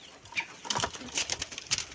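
Pigeons in a loft, with soft scattered wing flaps, shuffling and brief coos close by, quiet and irregular, with no one speaking.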